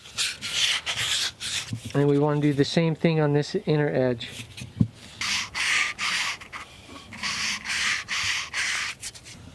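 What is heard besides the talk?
sanding the edge of a wooden piece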